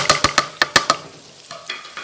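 Arbi and potato curry with coriander and garam masala being mixed in a pan, a quick series of sharp spoon clacks against the metal over a soft sizzle, then a pause and a couple more knocks.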